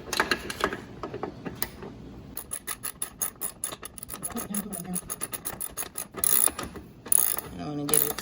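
A wrench ratchets in quick clicking bursts as a bolt is tightened on a Hitachi 10-inch compound miter saw, the clicks growing louder near the end with small metallic knocks between them.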